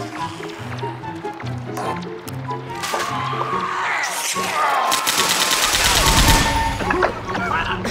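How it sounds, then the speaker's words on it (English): Machine gun fire in Left 4 Dead 2 rattles through dense game action, building into a loud, sustained burst near the end, with players talking over it. "Ayun, machine gun."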